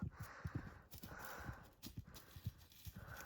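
Horses being moved to a different pasture walk past, hooves clip-clopping in an uneven, steady rhythm close by, with faint rustling between steps.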